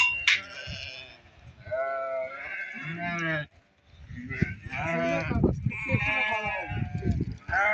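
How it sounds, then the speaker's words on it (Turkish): Sheep and lambs bleating in a flock, overlapping loud cries close by, with several calls in quick succession and a brief pause midway. "Görün ne güzel kuzuları var."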